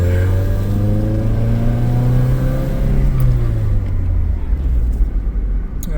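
A car engine on a test drive after ECU chip upgrades revs and accelerates, a steady loud rumble with rising pitch that holds throughout, near and continuous with no talk over it.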